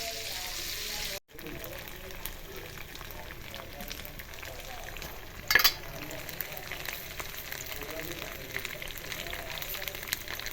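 Soaked moraiyo (barnyard millet) fries in a pan with tempered tomatoes for farali khichdi. A continuous soft sizzle runs under occasional stirring scrapes and one louder clatter midway, with a brief dropout near the start.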